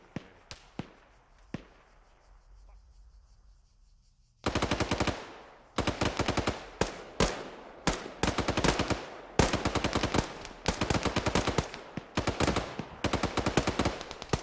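Rapid bursts of vehicle-mounted gunfire in a military video game, a few sharp isolated shots first, then long, loud, sustained automatic volleys with brief gaps.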